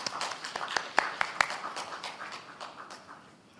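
An audience claps for Shehnaz Lakhani at an immigration seminar in Colombo: a quiet, scattered round of hand claps with a few sharper near claps early on, thinning out and fading over a few seconds.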